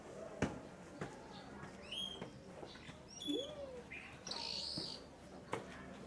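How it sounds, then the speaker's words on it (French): Bird in a Catalan village garden near lemon trees sings a distinctive song of varied whistled chirps and rising and falling notes, heard close alongside faint background voices and clicks. "Il y avait un oiseau qui avait un chant très particulier."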